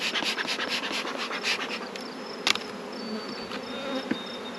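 Dense, steady buzzing of honey bees around an opened hive, close and continuous with a few sharper flybys of single bees passing near.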